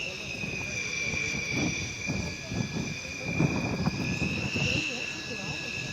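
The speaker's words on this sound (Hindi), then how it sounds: "राफेल फाइटर जेट में उड़ान भर रही हैं" A Rafale fighter jet flies over Ambala Air Force Station in Haryana, its steady engine roar with high whining tones sustained throughout, loud and continuous, with a narrator's voice running underneath.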